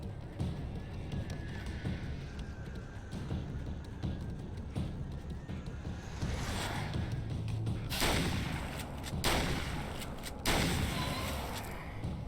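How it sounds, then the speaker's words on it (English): A shotgun fires in the video game Alan Wake's American Nightmare, with a few sharp, loud blasts standing out near the end over busy in-game noise. "Three shotgun shots."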